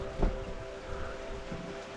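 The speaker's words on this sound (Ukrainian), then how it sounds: "злива почалась, як ми додому доїжджали" Steady rain hisses down in a dense, even wash, with a couple of soft thumps near the start; no voices.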